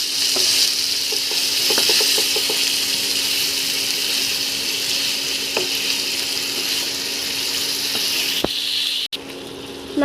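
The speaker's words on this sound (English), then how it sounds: "Now fry it till it becomes golden in color." Vegetables and chicken fry steadily in a pan until golden, a continuous loud sizzle with occasional clinks and stirring scrapes, and no talk.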